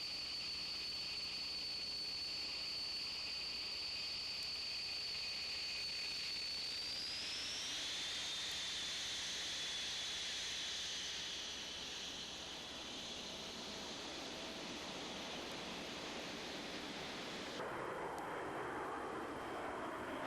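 Panavia Tornado military jet at an airshow, a continuous roaring, hissing jet noise with a high whine that shifts in pitch as it passes, steady and fairly loud throughout with no voices.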